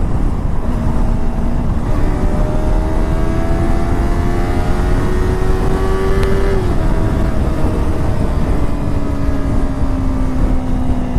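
A two-cylinder 250R motorcycle engine revs steadily, its pitch climbing in long sweeps and dropping after a shift, loud and continuous with wind and road noise throughout.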